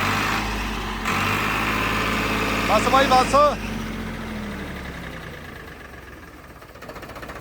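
A tractor engine idles with a low, steady rumble throughout while people talk nearby in short phrases, and the engine noise fades slightly toward the end.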